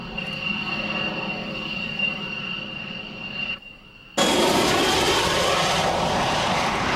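A military jet engine whines steadily at an air base, then after a brief dip it surges into a loud, broad roar as the aircraft takes off, holding to the end.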